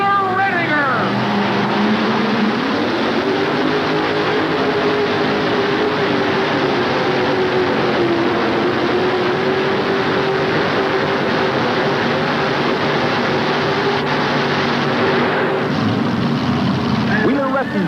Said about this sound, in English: He's running 2 Donovan engines. Here we go, Butch.